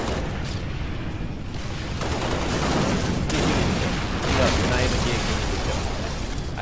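A grenade explodes in the first-person shooter Halo Reach amid dense, continuous gunfire and blasts, with a player talking loudly over the combat noise.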